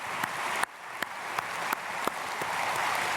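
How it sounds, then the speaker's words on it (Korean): A church congregation applauds during a Sunday worship service, with steady, moderately loud clapping and a few sharper accents, the sound dipping briefly before the applause carries on. "우리 박수하겠습니다."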